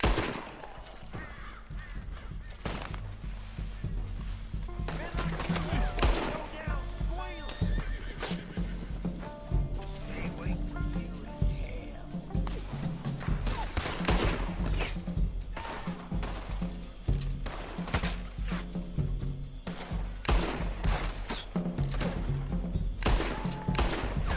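Gunfire in the video game Red Dead Redemption 2 Online, dense bursts of shots mixed with horse whinnies and clopping hooves, loud and continuous throughout.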